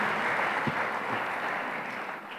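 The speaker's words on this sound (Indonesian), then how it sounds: "kita kasih tepuk tangannya yang paling meriah buat Tuhan kita" A church congregation applauds during a worship service, a thick, even roar of many hands clapping at once, sustained and fairly loud throughout.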